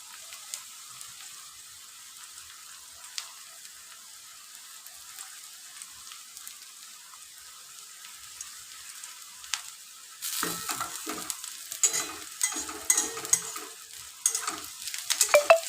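Onions sizzle steadily in hot oil as they fry slowly toward crisp golden beresta for a chicken dish. A quiet, even frying hiss grows livelier and crackly after about ten seconds, with occasional stirring, and no talking.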